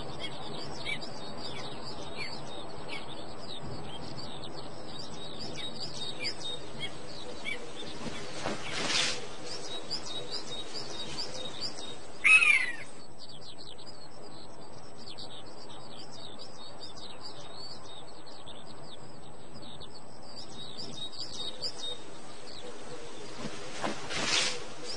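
A pair of hawks calls over pine forest in Wales: thin, high chirping cries repeat steadily throughout, with a couple of louder, sharper calls standing out near the middle and end.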